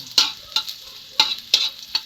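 Garlic being sautéed and stirred in a pan, with soft sizzling and about five quick scraping stir strokes, close and moderately loud.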